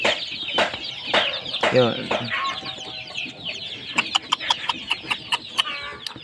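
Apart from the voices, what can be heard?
chicks of a heritage chicken breed peeping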